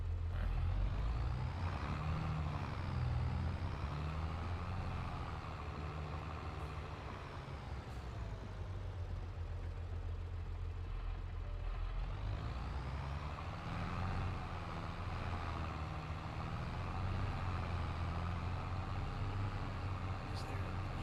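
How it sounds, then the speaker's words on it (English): A truck in a farming video game runs steadily with engine drone, its air brakes giving occasional faint hisses, while players talk over the sound. "It's got like air brake sounds for the brakes."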